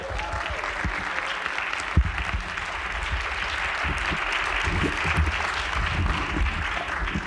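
Theatre audience applauding after a film screening of Black Panther at a cinema: a dense, sustained wash of clapping from a full house, steady and fairly loud throughout with a few sharper individual claps.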